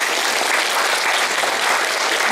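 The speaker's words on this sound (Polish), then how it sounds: "Proszę o oklaski." Audience at a Mother's Day concert in Solec Kujawski breaks into loud, dense applause, a continuous clatter of many hands filling the hall without pause.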